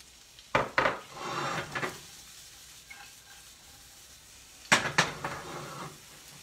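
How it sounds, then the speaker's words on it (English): Half a medium onion dropped into a hot pan with cooking for Italian beef, two bursts of clattering utensil-and-pan contact with brief sizzling crackle, close and fairly quiet, no talk. "Now we're going to add the onion in there."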